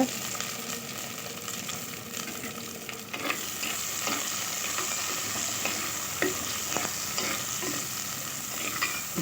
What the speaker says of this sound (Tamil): சின்ன வெங்காயம் சேர்த்து ஒரு கிளறி கொடுத்துக்கோங்க.